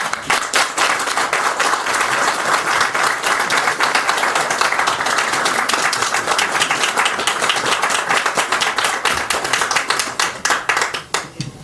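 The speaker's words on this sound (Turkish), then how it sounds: "Güçlü alkışlarımızla Selahattin Dündar" Strong, sustained applause from an audience at a Turkish poetry festival, greeting the folk poet Selahattin Dündar. Dense, steady clapping stays loud throughout and thins out near the end.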